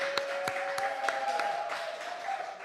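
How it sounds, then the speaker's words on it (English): Scattered clapping from a seminar audience rises briefly after a leadership-tour host calls for a round of applause, sparse claps over a steady tone and room hum. "let's give Shalene a round of applause"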